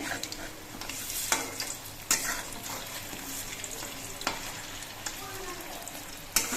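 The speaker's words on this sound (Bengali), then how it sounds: "আমি চারটে করে কাঁকরোল দিয়ে ভেজে নিচ্ছি" Teasel gourds (kakrol) fry four at a time in a pan over medium heat, giving a steady sizzle with occasional sharp stirring or turning clatters and no talking.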